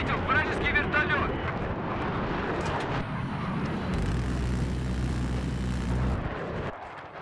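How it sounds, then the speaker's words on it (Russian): An enemy helicopter in the video game Battlefield 4 roars as a loud, steady low rumble amid the chaotic noise of battle, with bursts of gunfire and blasts around it. "Видел вражеский вертолет!"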